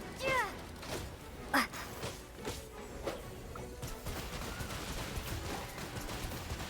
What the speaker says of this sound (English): Oh, it's like a gun.